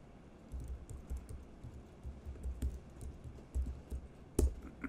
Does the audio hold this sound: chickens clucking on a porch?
no